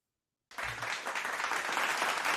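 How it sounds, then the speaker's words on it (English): Audience applause at a live Los Angeles Lakers fan show bursts in suddenly after a brief silence. Many hands clap in a dense, steady wash that holds and grows slightly fuller. "another round of applause"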